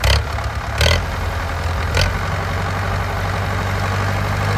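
A tractor engine runs after a mechanic's adjustment, idling loudly and close with a steady low rumble and a few brief revving surges early on.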